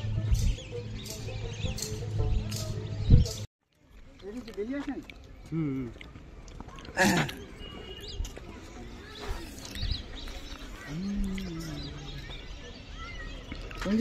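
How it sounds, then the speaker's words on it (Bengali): Many birds chirp and call in a small zoo setting, several short tweets scattered over the clip amid background noise and people talking nearby. "অনেক পাখি, অনেক পাখি,"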